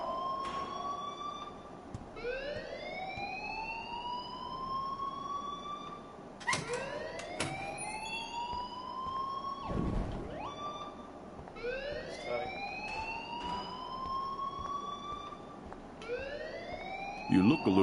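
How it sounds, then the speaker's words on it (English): A wailing electronic alarm in a PS4 video game sweeps up repeatedly in steady rising cycles, loud and continuous, with characters talking underneath. "please turn off that alarm since that's your job"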